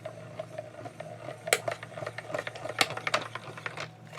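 Card stock passes through a hand-cranked die-cutting machine, giving soft ratcheting mechanical clicks and gear whirring at close range, fairly quiet with irregular sharp ticks.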